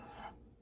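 A sanding stick nail file rasping across a small model car part, a single short, quiet scraping stroke heard close up.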